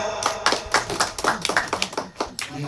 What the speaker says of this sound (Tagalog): So palakpak ang gwapa.